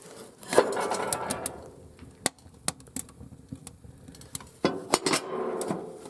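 Firewood being stacked into a small woodstove through its top lid, giving a series of close wooden knocks and clunks against metal at an irregular pace, with a little rustling between them.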